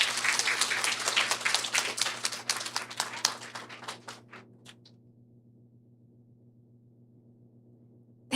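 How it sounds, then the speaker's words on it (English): Applause from an audience at an event with the Canadian Space Agency and Explorers Club, dense clapping for about four seconds that thins out and fades to near silence. "A big round of applause to everyone."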